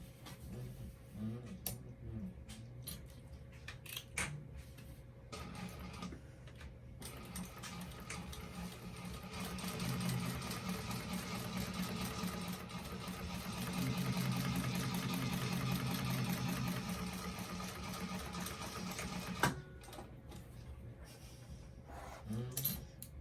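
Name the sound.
sewing machine top stitching vinyl seam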